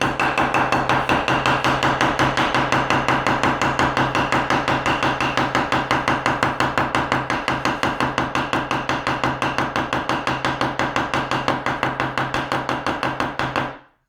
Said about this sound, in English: I'm going to do a little bit of a spine tap test.